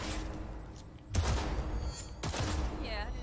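Gunshots at a target-practice range in Cyberpunk, two sharp broadband blasts about a second apart over a steady game ambience, the second shot followed by a brief whirring tail.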